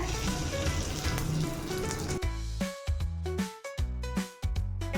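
Egg-dipped banana bread hits a hot pan (tava) with a dense, loud frying sizzle for about two seconds, then music takes over and the sizzle fades beneath it.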